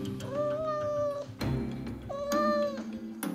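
A small kitten, lost and cold, gives two drawn-out, clear meows close by, each rising then holding steady, with a short pause between them and no talking.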